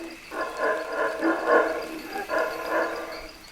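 Howler monkeys roar in the distance, with overlapping droning calls rising and falling in waves across a few seconds.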